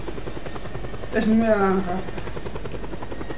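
A helicopter in the video game Just Cause 2 gives off a steady, even rotor drone that runs the whole time beneath someone talking.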